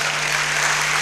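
A church congregation claps together during a sermon, a dense continuous burst of applause over a steady low electrical hum.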